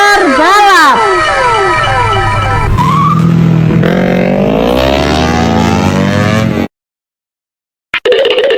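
A racing motorbike sound effect from a children's vehicle spin-wheel toy: loud engine whines rise and fall in pitch, ending in a revving surge that cuts off abruptly. After a short silence, a brief burst returns at the end.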